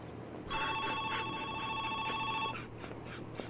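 An old-style telephone bell rings in a continuous electric trill for about two seconds inside the horror game Joe's Diner, loud and close over a faint room hum, then cuts off.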